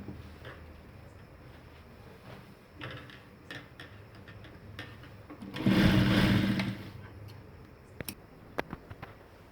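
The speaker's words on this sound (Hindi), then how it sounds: "अब दूसरी सिलाई लगाकर मजबूत कर देते हैं।" A sewing machine runs a second reinforcing seam on ladies' elastic pants in one short burst of rapid stitching, framed by quiet ticks, handling clicks and fabric rustle before and after.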